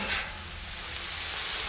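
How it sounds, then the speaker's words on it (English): Ham sizzles on a Camp Chef flat top griddle, a steady close hiss of frying that runs without pause and with no talking. "see that sizzle that we're getting on there? That looks really good"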